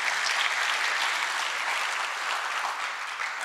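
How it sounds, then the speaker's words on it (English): Conference crowd at a blockchain event applauding, a dense, steady wash of many hands clapping that holds evenly and tapers slightly at the end, with no voices over it. "Quick round of applause for Pegasus and Catapult"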